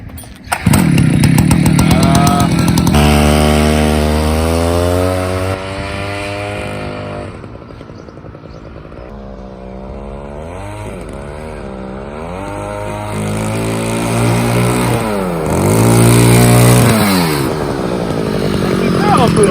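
A repaired gas-powered kick scooter engine revs hard on a road test, its loud, close, buzzing whine climbing and falling in pitch through repeated throttle bursts.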